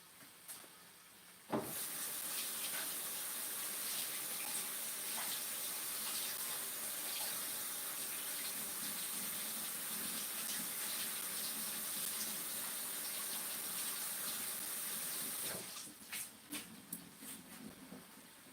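Kitchen tap water runs in a steady hiss while a peeled red onion is rinsed under it, starting abruptly, continuing evenly, then cutting off into a few small clatters.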